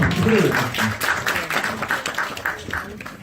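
At a camp orientation, an audience claps in a burst of applause that fades over a few seconds, with speech mixed in.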